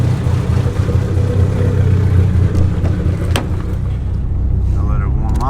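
A Dodge Neon SRT-4 engine idles nearby while warming up, a steady low rumble running the full length with a few brief clanks on top.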